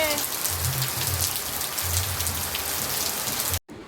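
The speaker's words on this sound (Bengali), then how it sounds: "এই দেখো ঝমঝম করে বৃষ্টি পড়ছে" Heavy rain pours steadily in a dense, continuous hiss on surfaces, close and loud throughout, with a low hum underneath before a brief cut near the end.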